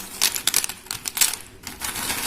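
Dried peanut pods are shaken by hand, giving several quick bursts of light, dry rattling close up, with short pauses between shakes.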